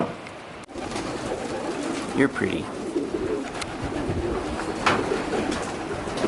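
A pigeon coos steadily close by, with someone speaking over the cooing.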